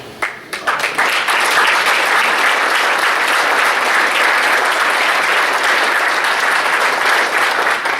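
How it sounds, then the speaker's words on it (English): Sustained applause from a sizable standing crowd at a county government address, steady and loud throughout, building quickly after a brief start. "I'd like to give you a little applause, please"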